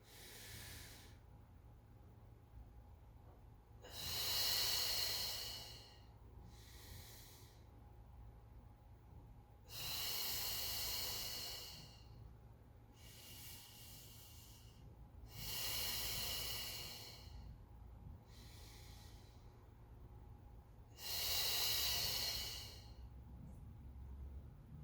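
Slow, deliberate breaths during a Pilates mat exercise, five long airy inhales and exhales spaced several seconds apart over a quiet, low hum, close and soft, with no talking.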